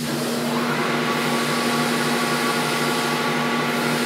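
A wide belt sander's motor runs with a steady, loud, continuous hum and broadband whir, close by, unchanging throughout with no talking.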